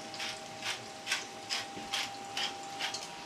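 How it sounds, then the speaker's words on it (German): A pepper mill grinds in short repeated bursts, about seven crunchy twists in steady rhythm, close and fairly quiet, with a faint steady hum underneath. "Ich gebe dir mal eine Pfeffermühle"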